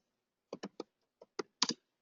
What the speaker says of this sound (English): I'm just typing a tweet here.